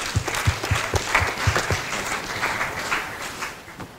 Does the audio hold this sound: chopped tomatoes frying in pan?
no